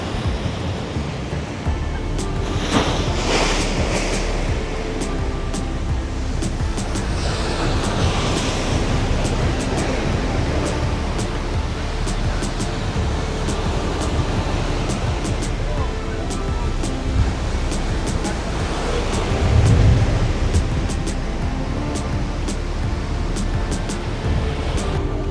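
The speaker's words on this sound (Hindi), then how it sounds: "क्या जोरदार लहरें हैं" Strong ocean waves crash and surge at Ram Setu in a continuous loud roar with wind buffeting the microphone, and someone speaks excitedly over the surf.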